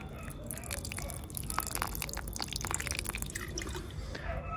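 Weak water trickling and dripping from a low-pressure hose during drip-style watering of columnar plum trees in a garden, a steady close patter of small splashes.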